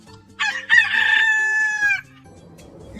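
A rooster crows once, loud and close, a drawn-out ringing call lasting over a second before quiet returns.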